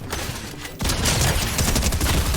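Shotgun fire in the video game Fortnite sounds as a loud burst of gunfire after a quieter start, followed by continuous dense shooting and game noise throughout.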